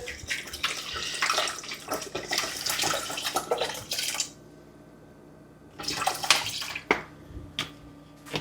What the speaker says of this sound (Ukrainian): Зараз будемо заливати водою на 400 грам 400 мл.